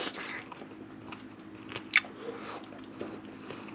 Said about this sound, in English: The chips are still crunchy.